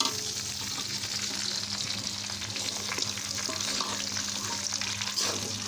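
Pre-fried mango pieces for pickle hit hot oil with lightly browned garlic in a pan, giving a steady close sizzle with occasional stirring scrapes and no talking.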